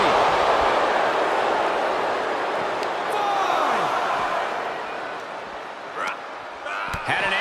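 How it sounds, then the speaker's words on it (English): A capacity arena crowd roars in the WWE 2K22 wrestling game, a broad steady wash of cheering that swells and eases, punctuated by a few sharp impacts near the end. "With every move you make, you hear this capacity crowd following you on that journey."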